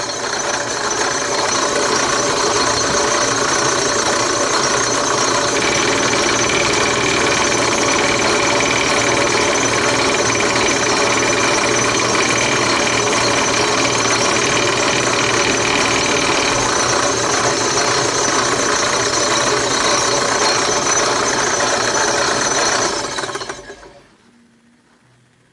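A power router with a 5/8 drill bit cutting wood for toys, a loud steady high-pitched whine with grinding, running continuously for about 23 seconds before spinning down to silence.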